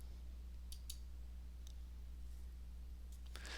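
A computer mouse gives several soft, sharp clicks, spaced irregularly over a faint steady hum and room hiss, with a small cluster near the end.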